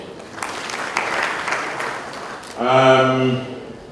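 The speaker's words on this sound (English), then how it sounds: "Please clap for him." Audience applause at a youth convention on electoral politics at Uganda Christian University greets a panel discussant, with scattered clapping that fades before a voice begins speaking near the end.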